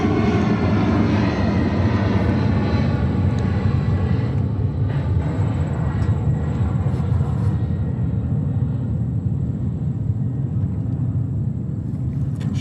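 A Lufthansa Airbus A380 jet at JFK Airport roars steadily and loudly, a continuous broad engine rumble with a faint high whine above, heard alone without voices.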